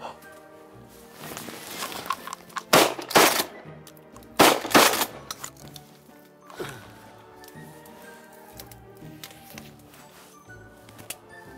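Several sharp, loud shotgun blasts go off outdoors during a cormorant hunt in an archipelago, in two quick pairs, with people talking quietly before and after the shots.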